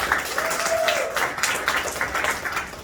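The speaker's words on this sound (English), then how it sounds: "Can everyone give Scott a round of applause as he joins his way up here, and Ryan a round of applause for helping me" Audience at a small mentalism show clapping, a lively, uneven burst of many hands with separate claps standing out, sustained for a few seconds, accompanied by a brief whistle-like tone early on.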